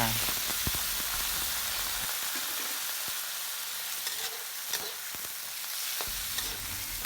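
Lotus stems stir-fried in a pan with garlic and oil hiss in a steady, dense sizzle, punctuated by scattered clicks and scrapes of stirring at close range.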